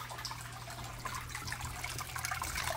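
An AQQA 265-800GPH submersible pump bubbling and circulating water in a home aquarium, a soft continuous gurgle and fizz with a low steady motor hum beneath, faint and close.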